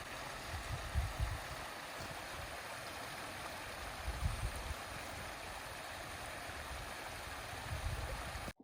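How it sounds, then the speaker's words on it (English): A creek flowing steadily beside a custom home building lot, a broad continuous rush of water with gentle low gurgles, close and unbroken with no voices. "let's just take a listen to this creek and the beautiful sound that it makes"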